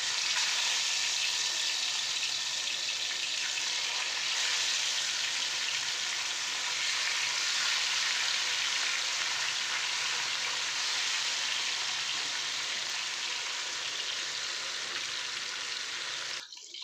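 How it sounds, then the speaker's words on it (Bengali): Turmeric-coated catla fish fries in hot oil in a frying pan, giving a loud, steady sizzle that hisses evenly from start to finish with no one talking. "এখন মাছটা ভেজে নেবো"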